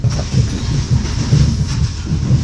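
The Reunification Express running on Vietnam's Hanoi–Saigon railway, a loud, close rumble with a steady rhythmic clickety-clack of wheels over rail joints.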